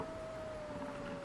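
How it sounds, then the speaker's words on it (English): Wild wolves howl in the video game The Long Dark, a long sustained wavering tone over a dense, steady background wash. "we hear the wild wolves howling in the background"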